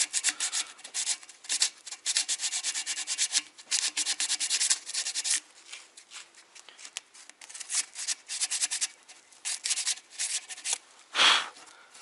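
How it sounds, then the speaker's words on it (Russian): Sandpaper wrapped by hand scrubs oxidation off Porsche Cayenne 955/957 front brake caliper guide parts, a close, steady rasping rub in repeated strokes over about twelve seconds with brief pauses and one sharp swipe near the end. "Так, я взял наждачку. Сейчас я ее смотаю таким вот образом и уберу здесь"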